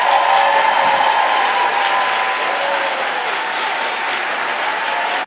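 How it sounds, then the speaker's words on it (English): A large audience applauds graduates of four historically Black medical schools with steady, dense, loud clapping that holds at an even level throughout, with no voices standing out. "let's give you a round of applause"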